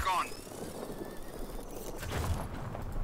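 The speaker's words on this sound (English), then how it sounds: "Oh, now there's a helicopter." A helicopter in the video game Just Cause 4, its rotor a faint, low, steady drone mixed with other game sounds.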